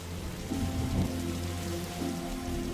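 Steady rain in the video game The Darkside Detective, a continuous hiss of falling drops over a low sustained musical drone, with no one speaking.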